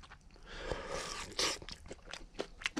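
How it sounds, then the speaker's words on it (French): Fried food being chewed, wet yet still crunchy, with soft close crunches and bites in an uneven rhythm and no talking. "Mais je vais manger aussi la friture."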